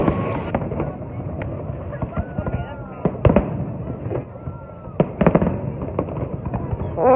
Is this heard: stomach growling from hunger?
no